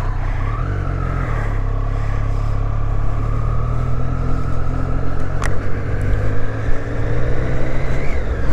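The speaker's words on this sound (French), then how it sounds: "BMW, genre un gros scooter BM" A large BMW scooter with an enclosed cabin travels fast at around 100 km/h, its engine droning loud and close with a rising whine, steady and prominent throughout.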